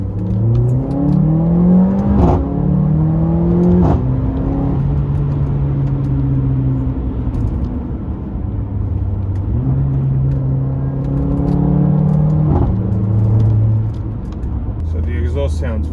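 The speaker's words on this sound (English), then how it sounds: "So the exhaust sounds very good in sports mode or in manual mode, with all the crackles and pops that happen." Mercedes CLA45 AMG exhaust in sports mode rising and falling through repeated revs while driving, several climbing pulls with sharp gear-shift breaks, loud and close over a steady engine drone.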